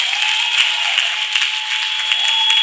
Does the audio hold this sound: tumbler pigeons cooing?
no